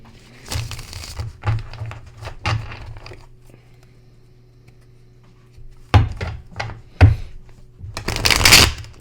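Tarot cards being shuffled by hand in irregular bursts of riffling and soft slaps, with a quiet pause in the middle before livelier riffles resume; close and fairly loud, with no talking.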